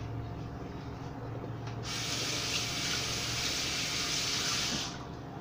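Tap water runs steadily into a kitchen sink while hands are washed, a broad hissing splash that starts abruptly, holds for about three seconds and cuts off, with no talking over it.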